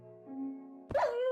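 Single Minecraft dog (wolf) bark, a short yelping burst after a quiet stretch of soft game background tones.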